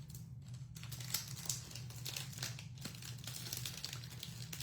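Paper crinkles and rustles as an envelope is pried open, close and fairly quiet, with irregular crackles and small tearing sounds and no speech.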